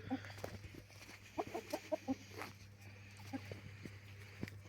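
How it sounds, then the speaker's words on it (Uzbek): A blue-grey rooster, kept outdoors in muddy ground with other fowl, gives a few soft, faint clucks in short bursts. A low steady hum runs underneath. "o'sha ko'ktoyimiz mana, ko'ktoy xo'rozimiz"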